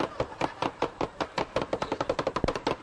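A cleaver chops raw shrimp into shrimp paste on a board, striking in a fast, steady series of close, sharp thuds that speed up toward the end, with no talking.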